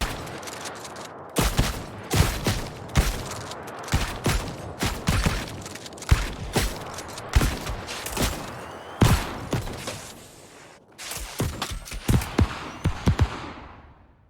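Rapid, loud bursts of blunderbuss shots in the video game New World, sharp booming blasts fired in quick irregular succession with brief pauses between volleys, close and alone.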